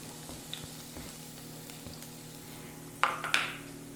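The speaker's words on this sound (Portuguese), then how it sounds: "Vamos fritar nossa cebola" Onion and garlic sizzle faintly in a pan as a low steady hiss, with two brief louder crackles near the end, likely as the onion goes in.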